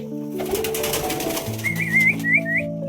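Pigeons in a loft that is being cleaned give soft coos and whistling notes. Layered, sustained tones come first, followed by a run of brief higher chirps, all close by and without speech.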